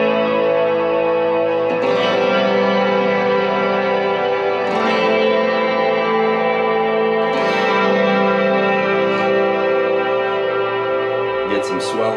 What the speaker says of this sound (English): I'm really into the swell sound now, but basically you could get something going and it's going to trail,